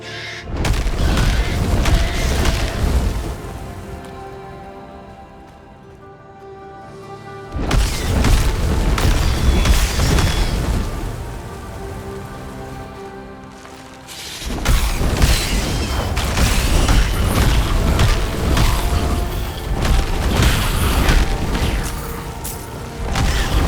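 Explosions in the video game Titan Quest 2 come as bursts of booming blasts and crashes, loud and dense for several seconds, easing briefly in between, then returning in heavy rapid volleys.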